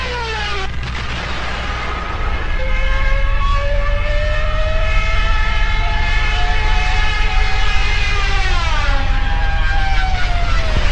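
A WWII diving warplane's siren trumpets wail loud and continuous, rising and falling in a howling, multi-toned scream over a heavy engine roar.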